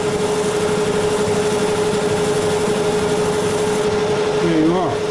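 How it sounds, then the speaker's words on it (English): A machine tool chamfers the backside of a part on a lathe fitted with a Multifix toolpost, giving a steady close whine and hum that wavers in pitch near the end. "Then I just chamfer this backside with the same tool."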